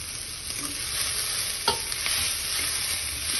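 Sliced onion and cabbage stir-fry in a hot pan for vegetable chow mein, giving a steady soft sizzle with a faint scrape of the spatula partway through; no one speaks.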